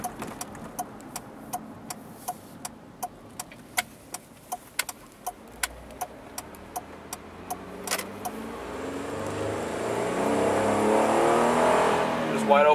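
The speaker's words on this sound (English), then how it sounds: "Wide open throttle." A 2002 Ford Windstar LX minivan with a 3.8 engine and a newly replaced fuel pump, heard idling under steady metallic ticking before the engine swells into a loud, sustained wide-open-throttle rev over the last few seconds.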